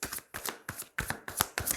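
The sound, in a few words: tarot card being placed on the table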